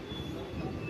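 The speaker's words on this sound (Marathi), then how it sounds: "अरे आम्ही चाललोय मित्रांनो ट्रेनवर" A Mumbai local train runs in a steady, close, continuous rumble of wheels and carriage noise, with no voices.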